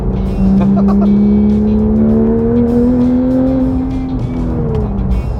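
A 2016 Porsche GT3 RS with PDK gearbox revs up loudly and close, its pitch climbing steadily through the gears with a rising, sustained roar.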